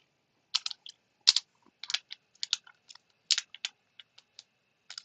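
Computer keyboard typed in quick, irregular bursts of crisp key clicks, close and clear against a silent background.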